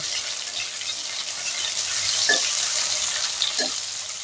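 Diced onions fry in a pan with a steady, bright hiss that fills the whole stretch, with a couple of soft stirring knocks in the middle.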